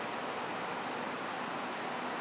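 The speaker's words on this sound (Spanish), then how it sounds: "Este ruido que se oye de fondo es que está lloviendo y el tejado, como es de plancha metálica, amplifica mucho el ruido." Rain pours onto a metal sheet roof over a workshop where an ICP Savannah S kit aircraft is being built, making a steady, dense, loud hiss and drumming that fills the space without pause and with no voices.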